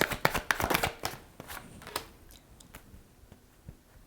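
A tarot deck is shuffled by hand in a quiet room, giving a quick burst of crisp riffling snaps that thins into a few scattered card taps.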